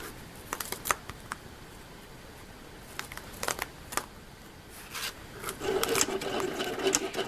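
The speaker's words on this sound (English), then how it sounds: "Now the Silhouette is cutting out the doilies" A Silhouette cutting machine cuts paper doilies, a faint mechanical whir broken by quick clicks and scratchy bursts that build toward the end.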